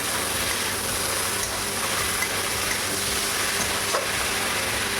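Pre-boiled taro stolons sizzling loudly in a pan for a prawn dish, a dense continuous frying hiss with faint stirring, no talk.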